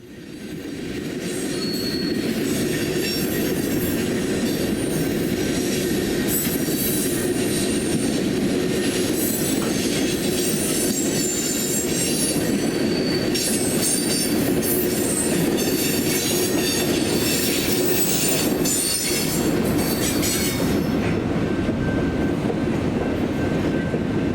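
A Southern Pacific SD40 freight locomotive rolls steadily past close by in a hump yard, a continuous heavy rumble with high metallic wheel squeal rising over it throughout.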